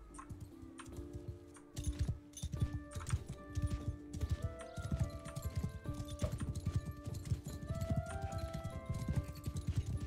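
Horse hooves clip-clop steadily in Mount and Blade: Bannerlord, a dense run of close, rhythmic impacts, with a brief whinny and in-game ambient tones mixed in.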